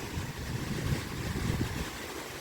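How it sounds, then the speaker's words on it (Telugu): Flood water rushes past a barrage on the Kinnerasani project in Khammam, a loud, steady roar with a churning low rumble that holds without a break, and no talk. "సో వాటర్ అలా పడి వెళ్ళిపోతున్నాయి, చూస్తున్నారుగా"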